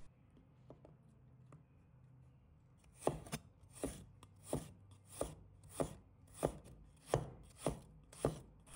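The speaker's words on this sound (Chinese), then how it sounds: "再准备1小块的生姜， 把它切成片。" A knife chops a small piece of fresh ginger into slices on a board: quiet at first, then about nine crisp, evenly spaced chops arrive at a steady rhythm, close and distinct.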